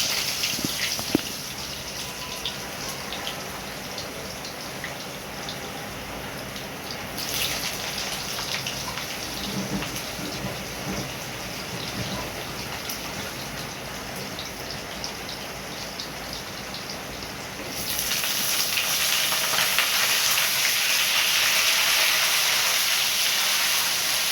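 Potatoes frying in hot oil spiced with bay leaves, garam masala, cinnamon and cardamom for aloo dum, a steady close crackling sizzle that grows louder and brighter toward the end.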